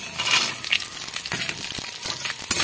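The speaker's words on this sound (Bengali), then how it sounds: "বাদামটাকেও ভেজে নেব।" Raw peanuts frying in a pan make a steady, bright crackling sizzle, close up, with a few soft stirring scrapes and no voices.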